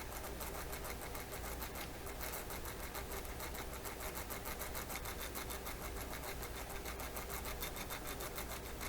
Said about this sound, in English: some of that noise is probably those plastic gears working against each other